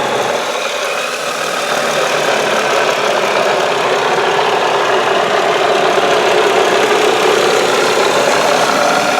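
A 2001 Mazda Millenia S car engine idles steadily and loudly, a constant close rumble with a faint rhythmic knock and no voices.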